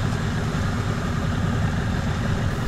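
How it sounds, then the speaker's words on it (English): An outboard motor on an inflatable fishing boat idles near rocks, a steady low rumbling drone heard up close with no voices. "Now I will turn off the engine so it will stop pushing."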